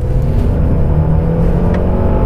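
A Mercedes E200 4Matic accelerates at full throttle from about 40 km/h, a loud, steady engine roar with road rumble that rises and sustains throughout, no voices over it.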